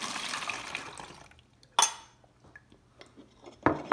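Liquid is poured from a cup into a bottle while making bread, a short splashing stream at the start. Sharp clinks of glass and utensils follow, close and fairly quiet.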